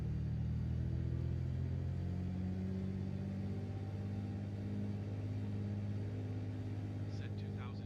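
A small aircraft piston engine held at 2000 RPM in Microsoft Flight Simulator 2020 drones steadily with a low, even rumble and a constant hum, while someone talks over it.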